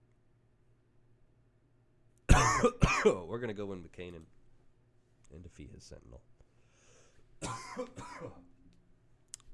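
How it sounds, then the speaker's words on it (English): A man coughs and clears his throat in a few harsh bursts nearby, then speaks over quiet room tone, with more short rough sounds later. "Excuse my coughing there."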